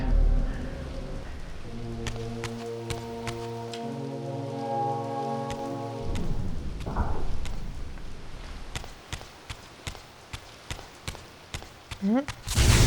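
Rain falls in the video game Legacy of Kain: Soul Reaver 2 Remastered as a steady broadband patter, with sustained musical tones early on and a run of sharp taps near the end.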